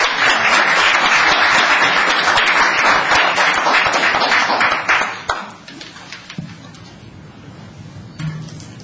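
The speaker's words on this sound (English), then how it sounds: "let's give this young woman a round of applause" A crowd claps at a town council meeting, dense and loud applause lasting about five seconds before cutting off abruptly into quiet room tone.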